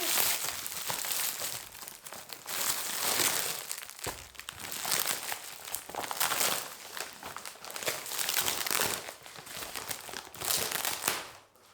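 Tape ripped and peeled off a vacuum-sealed plastic package of yarn skeins, loud close crinkling and tearing that comes in repeated bursts throughout.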